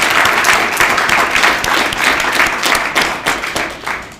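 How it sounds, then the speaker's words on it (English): An audience bursts into dense, sustained applause at a Youth Justice Lobby Day gathering, many hands clapping loudly and steadily for about four seconds before tapering slightly at the end. "I want to give all of you a round of applause and thank you"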